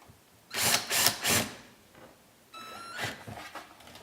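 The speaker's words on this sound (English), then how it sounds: "from here on we can use the old electric screwdriver." An electric screwdriver drives screws into a small wooden finishing turntable: three short whirring bursts close by, a pause, then another burst with a rising motor whine and stuttering clicks.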